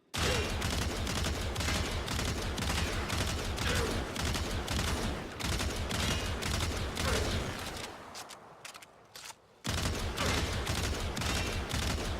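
A Tiberon Prime assault rifle in the video game Warframe fires at a heavy gunner in sustained, loud, rapid automatic bursts. The fire stops briefly near the end, then resumes at full intensity.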